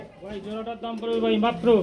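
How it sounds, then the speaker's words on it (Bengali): A courting pair of pigeons cooing, the male in soft, repeated throaty calls, fairly close, with the calls running almost continuously through the clip. "কবুতর রানিং পিয়ার ডাকতেছে নর ডাক শুনতেছে"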